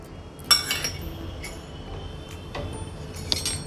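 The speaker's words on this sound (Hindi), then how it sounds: "अब उसमें सूजी डालेंगे" Semolina poured from a bowl into a kadhai over a gas flame, a few sharp clinks and light rattles as the bowl knocks the pan, with a faint hiss of grains between them.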